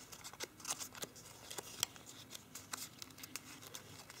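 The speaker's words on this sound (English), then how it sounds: "we have these flaps that we can fold out" Origami paper flaps are folded out by hand: quiet, close crinkles and crisp paper taps come in scattered bursts over a soft background.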